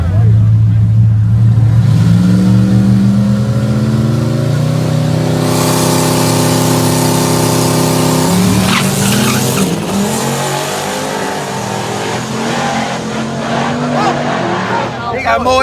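All-wheel-drive Chevrolet S10 truck at a no-prep drag strip: a loud engine climbs through revs and gear changes while tires squeal, then the sound fades as the truck pulls away, with crowd voices faint underneath.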